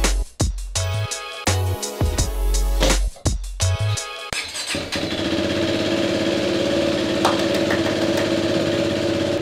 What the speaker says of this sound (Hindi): बाइकको आवाजले गर्दा I don't think that you guys can hear me